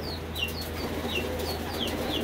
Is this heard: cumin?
no